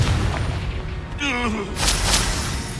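A Confringo fire spell blasts in Hogwarts Legacy combat, a loud booming burst amid rumbling battle noise, with a brief voice call and a bright crackling tail.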